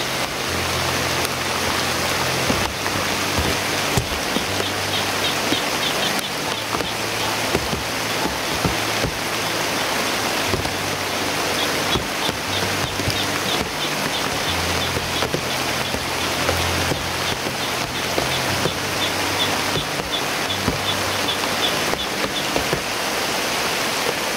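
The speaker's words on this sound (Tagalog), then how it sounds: "Lakas talaga ng ulan, grabe." Heavy rain pours steadily onto surfaces and running water, a loud, unbroken hiss of drops lasting the whole stretch, with faint low rumbles underneath and no voices.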